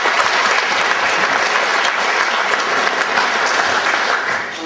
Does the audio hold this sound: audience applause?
yes